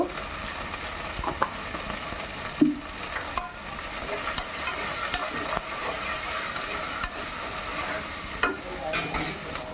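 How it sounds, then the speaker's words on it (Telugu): Salted fish with ginger-garlic paste fries in a pan for an eggplant curry, a soft continuous sizzle under scattered stirring clicks and scrapes, fairly quiet and close, with no voices. "చేపలు వేస్తున్నాను, ఉప్పు చేపలన్నీ వేసాను"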